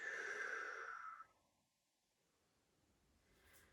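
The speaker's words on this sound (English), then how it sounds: "and breathing out." A long, slow exhalation during a children's pirate-themed yoga breathing exercise, a breathy rush for about a second that fades into near silence, close and soft.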